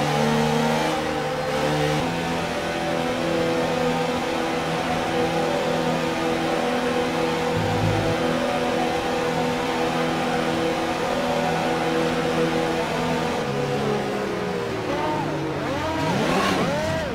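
F1 2019 race car engine revving steadily at high RPM on the starting grid, holding a loud sustained whine with gear-change shifts and a rising surge near the end.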